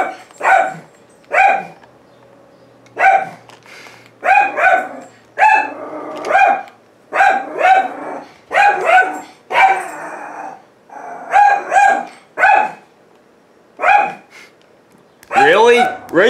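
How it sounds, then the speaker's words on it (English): A house dog barks repeatedly in loud, close bursts of two or three barks separated by short pauses, continuing alone over the full stretch. "That's obviously my dog."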